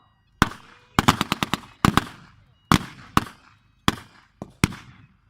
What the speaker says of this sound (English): even above the sound of the battle and the whirling bullets